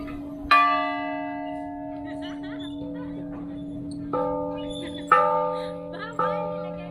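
A bell rings out with a clear metallic strike, its tone lingering and decaying, then several more strikes follow at uneven intervals, fairly close and alone.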